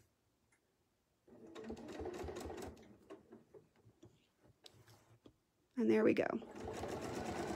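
A sewing machine chain-piecing a quilt hums in two runs, a longer one and then a louder one after a pause, and a voice talks in the gap between them.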